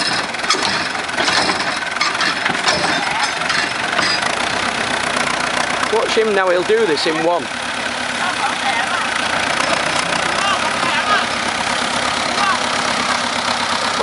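A small old tractor engine idles and putters steadily at a boat yard in Pattaya while reversing a boat into place, a constant mid-range rumble running under close conversational speech.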